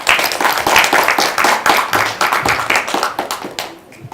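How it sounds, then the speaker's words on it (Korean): Close, energetic clapping from a lecture audience, with rhythmic bursts of hands striking together at high volume, then tapering toward the end. "큰 박수 부탁드립니다"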